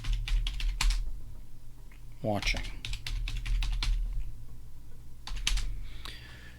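Close, loud clacking of a computer keyboard during live writing, arriving in quick rhythmic bursts of keystrokes with short pauses, and a voice speaking briefly in between.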